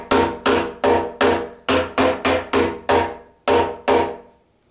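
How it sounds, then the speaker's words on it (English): Nautilus cajon after a slap head adjustment, struck with sharp, bright slaps about ten times in a fairly even rhythm, each hit close and loud with a short ringing decay. "there should be a much louder slap sound comparatively"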